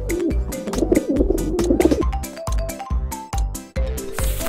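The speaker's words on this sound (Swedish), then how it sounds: "Fågel." A bird calls repeatedly in short cooing, chirping notes at a steady, close and fairly loud rhythm, with a warbling stretch near the start.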